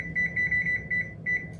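An oven's timer button beeps as it is pressed, a quick run of short electronic tones, close and fairly quiet, with a brief gap before the final beeps.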